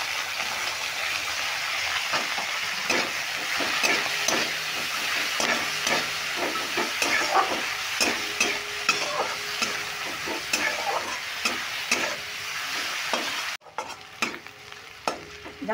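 Finely chopped capsicum stir-fries with sabudana in a hot pan, sizzling steadily while a spatula scrapes and stirs in repeated strokes. The sound cuts off briefly near the end.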